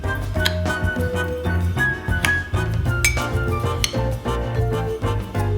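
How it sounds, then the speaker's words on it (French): A spoon stirs sugar and salt into 9% vinegar in a drinking glass to make sushi rice dressing, producing rapid, ringing clinks against the glass, close and continuous, with no voices. "remuez pour dissoudre le vinaigre"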